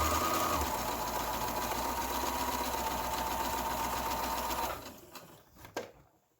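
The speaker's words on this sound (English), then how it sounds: "I'm going to sew on this other side because I don't want to interfere with that block" Sewing machine runs steadily, stitching a quilt block with a continuous motor whir for nearly five seconds, then stops, leaving a few faint clicks and a small knock.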